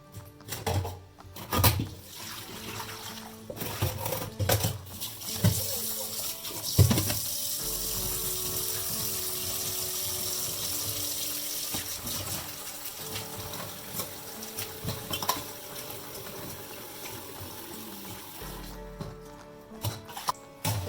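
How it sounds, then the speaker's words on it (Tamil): Cleaned crab pieces being washed in water by hand, with running tap water, splashing and knocks of shells against a vessel, irregular and close, no talk. "இப்போ இது எல்லாத்தையும் ஒரு 2 தண்ணியில் நல்லா சுத்தம் பண்ணி எடுத்துடலாம்."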